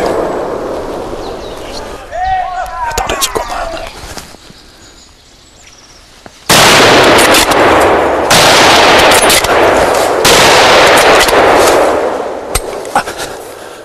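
Rifle shots ring out during a wild boar hunt, first a few scattered cracks under background noise, then a loud burst of rapid repeated gunfire dominating the second half.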